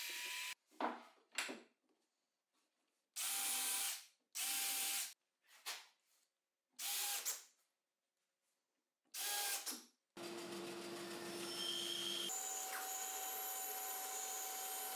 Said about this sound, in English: I'm going to join the three pieces of plyboard together using wood screws